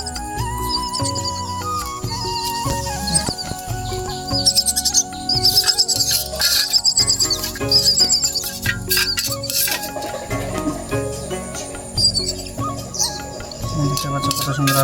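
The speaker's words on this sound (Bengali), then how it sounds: "আমরা নিয়ে আসি যে দুটো শালিক পাখির বাচ্চা আমার হাতে" Two baby myna chicks chirp and squeak in a busy run of high calls while being hand-fed, with a person talking close by throughout.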